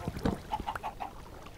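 Chicken clucking in Minecraft, a few short clucks and squawks in quick succession at moderate volume, with background game noise.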